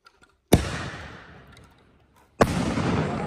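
Two heavy firework salute shells burst, each a sharp loud bang followed by a long decaying rumble and echo, the first dying away over about two seconds before the second hits, preceded by faint launch pops.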